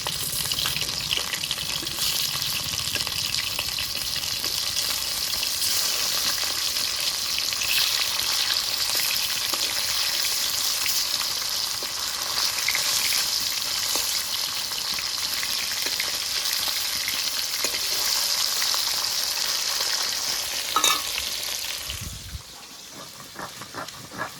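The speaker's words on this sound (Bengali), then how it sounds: "মাছটা এক পিঠ ভাজা হয়ে গেছে, এবার উল্টিয়ে দেবো" Mustard-coated fish frying in hot oil, a steady dense sizzle and crackle that runs loud and unbroken for over twenty seconds, easing off only near the end.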